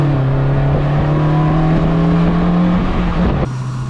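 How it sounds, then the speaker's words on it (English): Gearbox whine from a Polaris Slingshot being driven: a steady, loud tonal whine rides over engine drone for several seconds, its pitch easing slightly before the engine note drops near the end. No talking. "The whine out of this gearbox"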